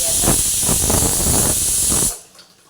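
A loud, steady hiss of steam jetting from a pressure cooker whistle while cooking bottle gourd, holding for about two seconds before cutting off abruptly into quiet.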